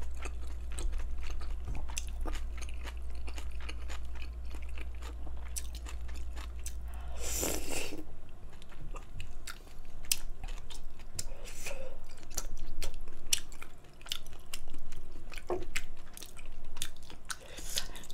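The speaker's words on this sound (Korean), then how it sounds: "쫀득쫀득 소리 나죠, 여러분?" Close, wet chewing of chewy potato ongsimi dumplings: soft squishy bites and sticky mastication repeat steadily, with a brief rustle partway through.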